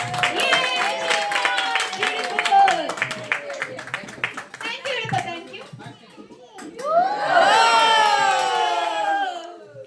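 A family gathering cheers and claps, with children shouting and squealing near the microphone, lively overlapping voices building into a loud excited burst at the end.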